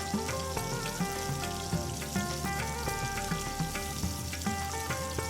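Chopped onions frying in hot oil with cinnamon and bay leaf for a paneer masala gravy, producing a soft, continuous crackling sizzle close by, with a steady tonal hum running underneath and no speech.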